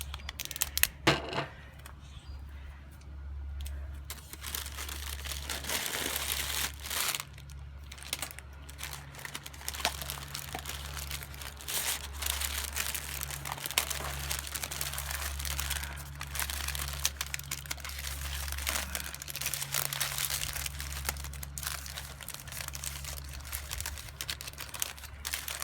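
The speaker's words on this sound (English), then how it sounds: "Since the tape does not stick well to parchment paper, I will rely on this tape to stick well to tape." Tape and parchment paper are handled up close while wrapping Swiss chard and butter crunch lettuce, with intermittent crinkling, tearing and tapping amid a low steady hum.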